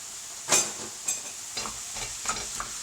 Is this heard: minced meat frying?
yes